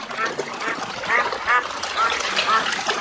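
Several ducks quack repeatedly in a rhythmic series, close and fairly loud, with speech-like noise mixed in.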